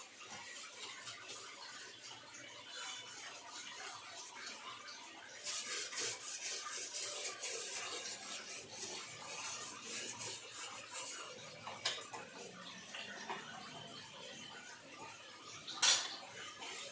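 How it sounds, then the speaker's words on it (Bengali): A gas stove gets scrubbed and wiped, giving a steady close rubbing and rasping with a few light metallic knocks and one sharp clack near the end, and no talk. "এখন গ্যাস পরিষ্কার করছে।"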